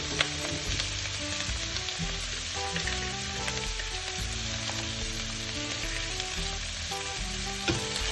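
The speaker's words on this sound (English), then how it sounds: "And then now we can add our kimchi." Kimchi goes into a hot pan for kimchi jjigae and fries with a loud, constant sizzle, broken by a few sharp clinks of utensil on the pan and some stirring, with no talking.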